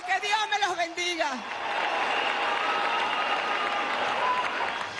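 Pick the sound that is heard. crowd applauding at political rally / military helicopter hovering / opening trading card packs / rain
crowd applauding at political rally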